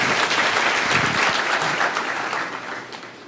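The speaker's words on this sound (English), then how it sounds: "We couldn't hear here because of the applause for that." An audience breaks into loud, dense applause at a humanitarian leadership conversation event, the clapping sustained and then slowly tapering off.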